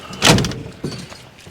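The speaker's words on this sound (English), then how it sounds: "And the door shuts nicely." A 1955 Buick Super's door swings shut with one solid, close thud, followed a moment later by a softer knock, with no talking.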